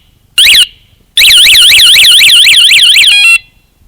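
A Tech7 125 dB motorcycle alarm blares close and very loud: a short warning burst, a pause, then a long warbling siren that sweeps up and down repeatedly before cutting off abruptly.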